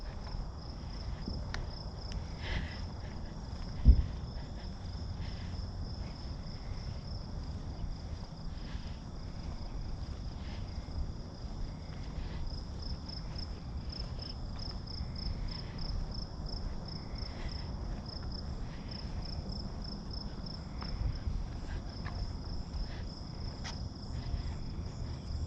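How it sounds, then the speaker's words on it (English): Crickets chirp at night in a cemetery in a dense, steady, high-pitched trill throughout, with a faint background hum and one brief knock partway through. "So here we just hear crickets."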